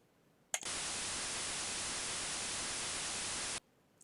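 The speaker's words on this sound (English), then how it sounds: "Okay, so that's just white noise." An Amiga synth noise voice renders white noise: a flat, loud hiss that starts abruptly, holds perfectly steady for about three seconds, then cuts off into near silence.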